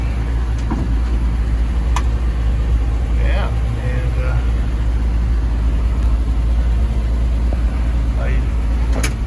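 A 1940 Chevrolet 1 1/2 ton stake bed truck engine idles steadily with a low, constant rumble throughout, while a person talks over it and a few faint clicks and knocks come through.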